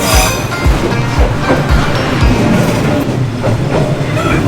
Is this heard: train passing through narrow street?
yes